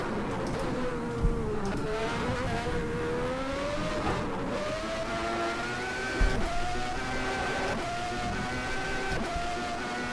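A Lamborghini-engined Formula 1 car from a 1995 Brazil race in the rFactor racing game drones on a steady, high-pitched engine note, rising and falling with throttle and dipping briefly at two gear shifts.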